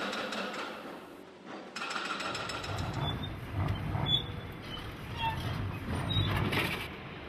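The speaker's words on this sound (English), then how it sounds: "Excess sand and extra parts from the mold are cut off the saddle in a process called fettling." Fettling a cast steel saddle at a foundry, cutting away excess mold sand and extra cast parts, heard as a steady mechanical grinding and rumbling drone with faint metallic rattles, continuous and fairly loud throughout.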